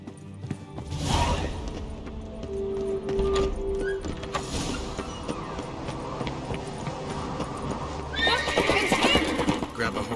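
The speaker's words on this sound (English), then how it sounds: "Grab a horse, we'll chase him down." In The Witcher 3 video game, a horse gives a clear whinny amid galloping hoofbeats, with scuffling, clattering and in-game voices mixed around it.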